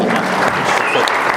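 An audience applauds at an anniversary ceremony, a steady dense clapping of a large crowd, loud and sustained throughout.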